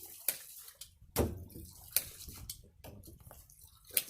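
Intermittent splashes and gushes of water spurting from a pipe of a homemade hot water heater built from an old AC unit, in uneven bursts, with drips and sloshing between them.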